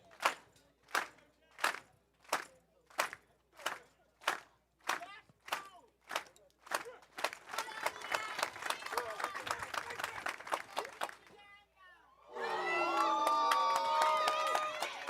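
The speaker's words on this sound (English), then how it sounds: "Let's clap him up." Spectators at an athletics trials meet clap in a slow, steady rhythm of sharp, loud beats that speeds into rapid, dense clapping, then give way to a swelling roar of crowd cheering.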